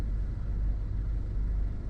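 Thunder from a night thunderstorm rolls as a continuous low, heavy rumble that fills the whole stretch with no break and no voices.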